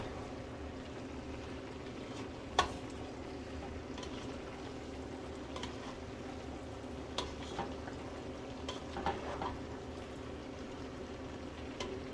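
Cabbage cooking down in a pot for sausage cabbage potato soup, a faint steady bubbling simmer with a few soft clicks and knocks, quiet and without talk.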